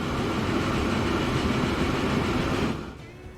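BR-75 passenger trains in the Transport Fever 2 video game make a steady, loud rolling rumble that drops off sharply toward the end.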